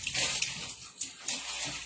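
Cold tap water rushes steadily over raw chicken pieces kept in a bag, a close hissing splash that swells and dips as the water is moved around.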